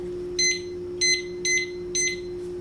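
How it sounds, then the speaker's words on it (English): A kitchen timer gives four short, bright electronic beeps at uneven intervals as it is set, with a steady hum running underneath. "So I'm gonna set the timer for 5 minutes now."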